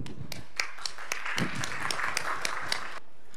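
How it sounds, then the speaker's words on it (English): An audience at an agriculture and food deans' meeting gives a round of applause, a quiet, scattered patter of clapping with a few sharper claps standing out before it stops abruptly. "Can I have a round of applause?"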